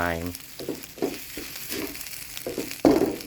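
Egg fried rice stir-fried in a pan, with a quiet sizzle under repeated scraping strokes of the spatula, while someone talks.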